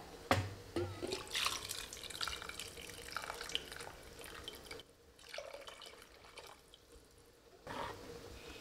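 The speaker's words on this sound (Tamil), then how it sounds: "இப்போ எடுத்து வச்சுருக்கிற எக்ஸ்ட்ரா தண்ணி எல்லாமே சேர்த்துக்கலாங்க" Extra water poured into a Kongu-style bajji kadayal in a home kitchen, a trickling, splashing pour with drips that starts strong, then thins out to a quieter patter near the end.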